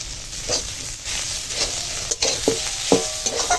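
Taro leaves and potatoes cooking in a pan while being stirred, a close sizzle broken by several distinct scraping stirs of a spoon against the pan, with no talk.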